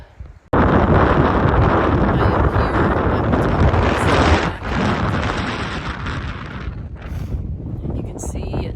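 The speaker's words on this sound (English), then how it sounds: "You can see it's very windy" Strong wind roars across the open summit of Saddleback Mountain on the Appalachian Trail, buffeting the microphone in loud, continuous gusts. It eases slightly toward the end.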